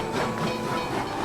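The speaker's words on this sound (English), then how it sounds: "The train! It has arrived!" A train pulls into a station as a steady hissing, rumbling wash of rail noise with a faint rhythmic clatter underneath, loud and continuous without talk.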